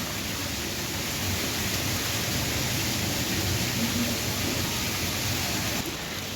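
Steady rain falling, a continuous broadband hiss that stays even and fairly loud from start to finish with no voices over it.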